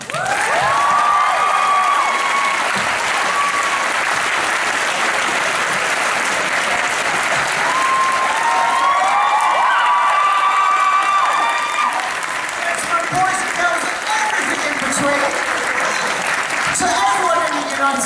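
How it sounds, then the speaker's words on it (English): A crowd at a comic con cosplay masquerade in Manchester claps loudly and steadily, with cheers and whoops rising over the applause throughout. "a big round of applause for Jasmine as Lady Maria from Bloodborne"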